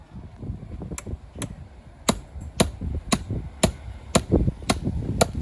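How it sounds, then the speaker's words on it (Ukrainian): Sharp metallic hammer strikes ring out about once every half second, each with a bright springy ping as the hammer bounces off steel samples for tank hinges in crash tests, over low rustling background noise. "А так воно відпружинює молоток"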